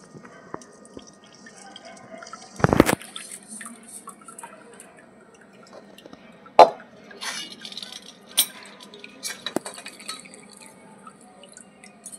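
Freshly cooked oil being strained, with soft drips and light clinks against a quiet background and a couple of sharper metallic knocks along the way.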